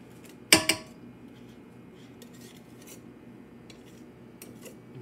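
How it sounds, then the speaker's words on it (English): A spatula clacks twice against a mixing bowl while being scraped clean of pound cake batter, a sharp close knock and a quick second tap, then quiet room noise with faint clinks. "Let me clean my spatula off."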